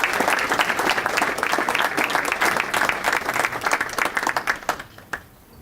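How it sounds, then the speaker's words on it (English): A room of attendees at an annual rail industry meeting applauds the dinner caterers, with dense clapping from many hands that thins into scattered claps and fades after about five seconds. "Let's have a nice round of applause for Wally."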